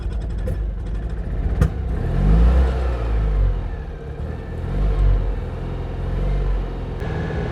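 An old Citroën car engine runs roughly after breaking down, a low uneven rumble that surges and sags irregularly, close by and loud, with a sharp click early on.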